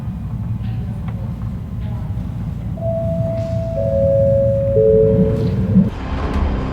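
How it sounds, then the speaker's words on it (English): A train pulls into a station platform at Bank with a steady low rumble, and a rising electric whine and squealing brake tones build as it slows and comes to a stop nearby. "The train is coming."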